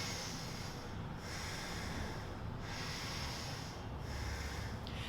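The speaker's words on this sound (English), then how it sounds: "make them do deep breathing" A child does a deep breathing exercise, with three or four slow, heavy breaths in a steady rhythm, close and breathy.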